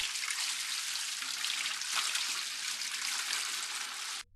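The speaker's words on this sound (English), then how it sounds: "Drain and clean the recovery tank." Water drains steadily from the recovery tank of a T7 floor scrubber, a continuous, fairly loud rushing trickle that runs alone for about four seconds before cutting off abruptly.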